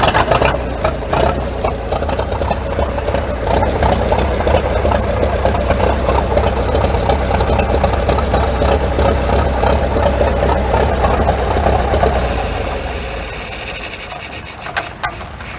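A 90-year-old engine on a 1923 Indiana tractor runs loudly and steadily with a rough, knocking chug at an antique gas engine and tractor show, then fades down near the end.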